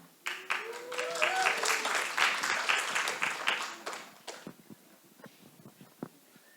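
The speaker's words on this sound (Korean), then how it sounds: "다시 한번 박수로 맞이해 주세요." A church congregation applauds during a live Sunday service, a burst of dense clapping lasting several seconds that fades into quieter scattered claps, with a voice briefly heard at the start.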